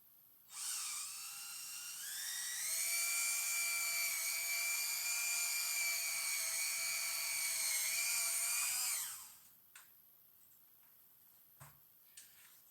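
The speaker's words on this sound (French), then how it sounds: "J'ai pris un petit morceau de bois comme ça et je vais percer." Power drill boring through a small piece of wood: a sharp, high whining spin lasting about eight seconds, rising in pitch partway through, then a few faint clicks afterward, with no talk.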